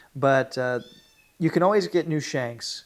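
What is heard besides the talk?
cat meowing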